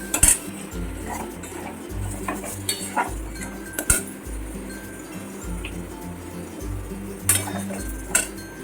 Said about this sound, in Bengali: এটা আস্তে আস্তে নাড়তে থাকবো